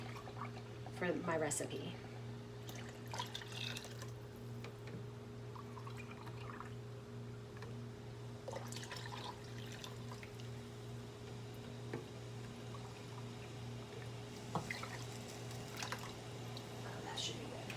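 Milk being poured into a cooking pot for a meatball Florentine sauce, a soft liquid splash and trickle near the start, under steady stovetop hum and someone talking.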